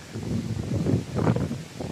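Strong coastal wind buffets the microphone in a steady, rumbling rush, with gusts swelling and fading, in Alabat, Quezon.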